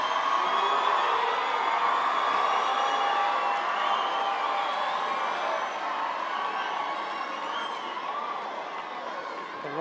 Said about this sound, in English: give them a warm hand of applause